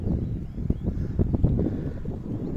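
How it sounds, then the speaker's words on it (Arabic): Wind buffets the microphone during a bicycle journey through Europe, a close, low, gusty rumble that swells and fades unevenly across a few seconds. "شتاو الريح"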